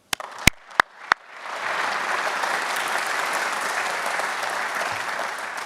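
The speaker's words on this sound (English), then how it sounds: "We can applaud them" At a national economic forum, a few sharp, isolated claps ring out first, then the audience joins in a full, sustained round of applause that stays loud and even to the end.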